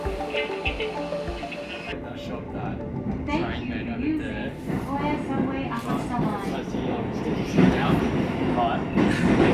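A train passes on a railway in Japan with a loud, continuous rumble, rhythmic wheel clatter and metallic squeals lasting several seconds, with voices audible over it.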